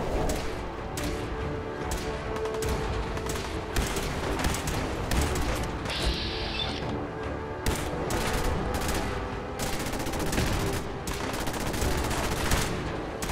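Rapid, dense Fallout 4 gunfire rattles almost nonstop, loud and close, with bursts of automatic shots layered over one another.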